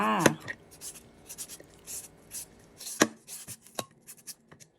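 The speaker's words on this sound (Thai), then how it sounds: "มา สับมะละกอกันก่อนเลยจ้า" Knife chopping green papaya for Thai som tam in a home kitchen, giving a scattered series of sharp, close cutting taps with light clatter between them and no talking.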